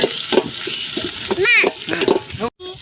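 Goat head curry frying with green chilies and curry leaves over an outdoor fire in the forest, a steady close sizzle with stirring scrapes, brief voices breaking in partway through, then it cuts out near the end.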